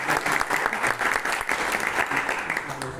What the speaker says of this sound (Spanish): Pero me gustaría dar un aplauso porque...